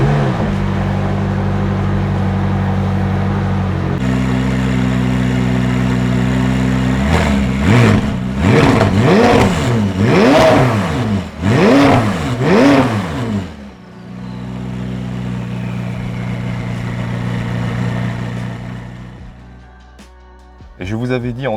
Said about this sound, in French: comme cette McLaren 540C est équipée de l'échappement sport, on va en profiter tout de suite.